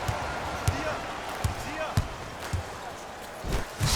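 Slam dunk in the NBA Live 19 video game during an online Clippers vs Lakers match: a few sharp ball bounces and a thudding slam on the court, heard under a commentator's voice.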